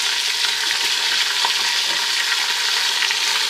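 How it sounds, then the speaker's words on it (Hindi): Bone-in beef browning in a pan for karahi masala gives off a loud, dense, unbroken sizzle from start to finish, close up and with no voices. "तो गोश्त को हम 2 से 3 मिनट भून लेंगे जी"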